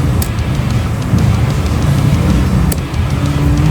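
Steady fan whir from a Llano V12 laptop cooler spinning at 1,000 RPM, a continuous low hum with airy broadband hiss at an even level and no one talking.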